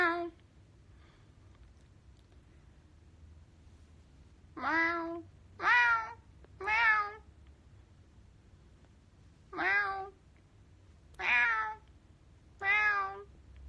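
A voice imitates a cat, giving a string of about seven short meows spaced apart over quiet background hiss.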